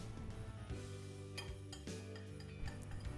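A spoon stirs flour, baking powder and cocoa in a bowl, giving faint, light clinks and scrapes at an uneven pace, quiet and close with no talking.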